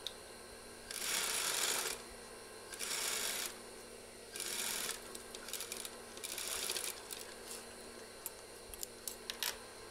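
A sewing machine stitching a zipper onto the fly facing and waistband of school trousers, running in several short, steady bursts of about a second each, with light ticks and clicks between runs.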